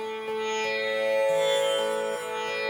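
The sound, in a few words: tanpura drone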